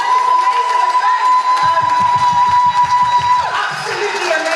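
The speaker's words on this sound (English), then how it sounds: "I just want us to just give a big hand clap to Judith." Loud cheering and whooping from a conference audience swell up close, with a sustained high whistle-like tone and a burst of rhythmic pulses partway through, the crowd noise continuing to the end.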